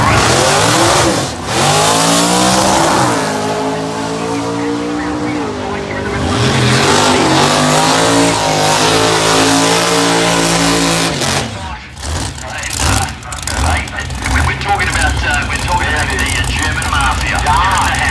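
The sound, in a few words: drag racing car engine revving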